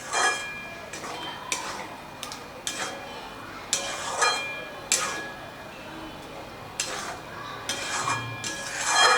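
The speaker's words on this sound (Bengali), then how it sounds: "দইটাকে দিয়ে আবারও ভালো করে নাড়াচাড়া করে দেব।" Curd stirred into pointed gourd (potol) in a pan for a vegetarian doi potol, a series of soft scraping and clinking strokes at an uneven rhythm, faint and close, with a voice talking between them.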